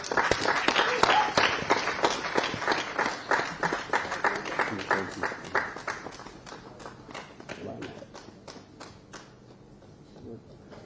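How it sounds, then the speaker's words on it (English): Dense applause from an audience at the Abuja launch of the Student Venture Capital Grant portal, a loud burst of many hands clapping that gradually thins and fades over about eleven seconds. "Another round of applause for the Honorable Minister"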